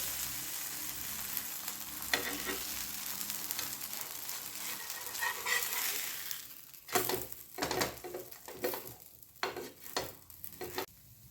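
Green pea thalipeeth flatbread fries on a pan in a soft, steady sizzle, then gives way to a series of short scraping and pressing sounds from a spatula near the end.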